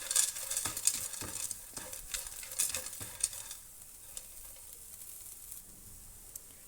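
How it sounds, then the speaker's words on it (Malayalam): Masala being roasted with roasted gram in a pan for a Karnataka-style mixed vegetable curry: steady close sizzling with repeated scraping stir strokes, busier at first, then settling into a softer, even fry. "പൊട്ടുകടലയും കൂടെ ചേർത്തിട്ട് നന്നായി ഒന്ന് റോസ്റ്റ് ചെയ്തെടുക്കാം."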